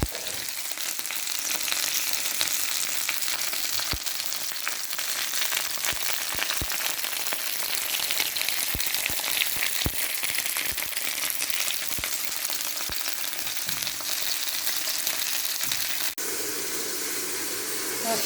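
Stuffed peppers fry slowly in a covered pan, giving a steady close sizzle with frequent small pops and crackles throughout.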